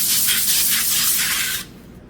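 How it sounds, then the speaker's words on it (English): Olive oil spray hisses onto a cookie sheet in one continuous burst of about a second and a half, close and loud, then cuts off abruptly. "I am going to use olive oil spray to coat a light coating on the cookie"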